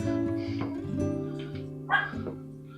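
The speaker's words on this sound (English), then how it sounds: "The dogs want something" Dogs barking indoors in a home kitchen, a few short barks and yips at moderate distance, rising to a louder bark near the end over faint background hum.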